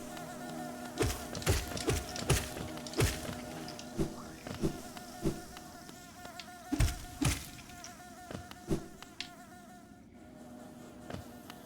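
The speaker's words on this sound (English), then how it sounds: "Bees in this game are adorable." Buzzing of bees in the Hollow Knight video game, a soft insect drone over a steady musical hum, punctuated by repeated sharp tapping hits spread across the stretch.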